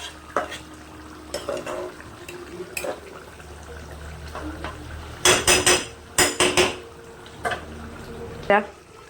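Mung dal with papaya being stirred and sautéed in a pot, with metal spoon scrapes and clattering bursts, loudest in a quick cluster midway, over a steady background hum.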